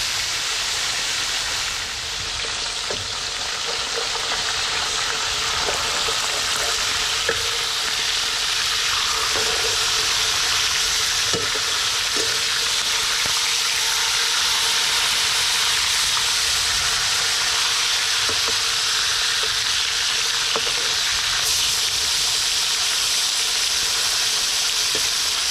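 Freshly caught, spearfished fish frying in hot oil: a loud, dense, continuous sizzling hiss with scattered small pops that holds steady for the whole stretch, close up and with no voices.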